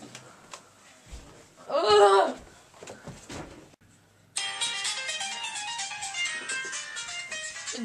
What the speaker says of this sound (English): Listen to my new ringtone!